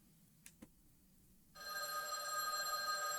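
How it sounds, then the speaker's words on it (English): A telephone rings in the video game Witch on the Holy Night, heard alone after two faint clicks, with a steady electronic trill that starts partway through and holds to the end. "The sound of a phone ringing echoed through the empty hallways of the school."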